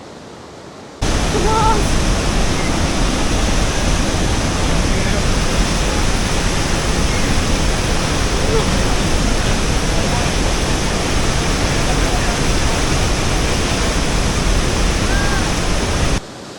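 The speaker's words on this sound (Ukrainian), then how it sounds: "Водоспади Ігуасу" After a brief moment of quiet, the Iguazu Falls on the Brazil–Argentina border roar in, a constant, loud, dense rush of crashing water that never lets up.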